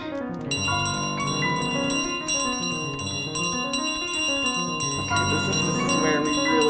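A bell rings repeatedly in Untitled Goose Game, bright metallic clangs in a quick, irregular series layered over plinking piano game music.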